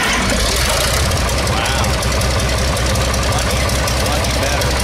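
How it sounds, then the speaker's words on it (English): A John Deere 5020 tractor engine, cold and blowing smoke after an engine replacement, rumbles loudly and continuously at close range with a rough, knocking idle throughout. "So what I'm going to do is I'm going to fire it up"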